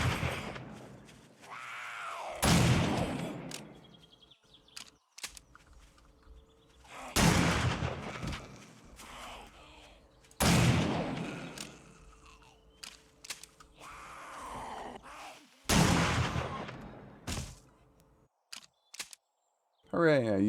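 A pump shotgun firing in 7 Days to Die, five loud blasts spaced a few seconds apart, each with a sharp crack and a short ringing tail and pump-action clicks between shots, with no talking.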